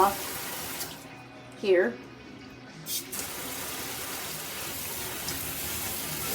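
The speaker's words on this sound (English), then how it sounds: "You turn the water off" Water sprays steadily from a handheld high-pressure shower head, with a short spoken word heard over the running flow.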